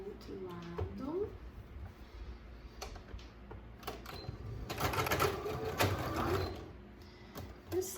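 A domestic sewing machine stitches seams in embroidery thread on a small keychain coin purse, its rapid mechanical chatter running in bursts with pauses, while a voice talks over it.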